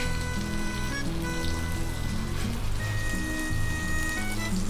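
Chicken pieces for chicken parmigiana frying in oil in a pan over medium heat, a close continuous sizzle and crackle, with faint tonal ringing above it.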